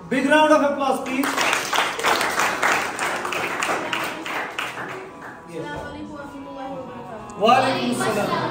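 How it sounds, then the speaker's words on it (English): An audience applauds at a certificate distribution ceremony in Awantipora: a few seconds of dense, sustained clapping that rises after a voice speaks and fades before more talking resumes. "Big round of applause, please."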